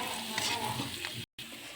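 A spoon stirs onion-garlic masala in a sizzling pan while a banana flower bhaji is cooked. The scraping and frying hiss run steadily, then cut out briefly just before the end.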